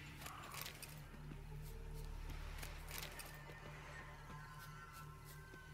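Roach the horse in The Witcher 3 whinnies and neighs over a steady low game-ambience drone, with faint clip-clop hoofbeats mixed in at moderate volume.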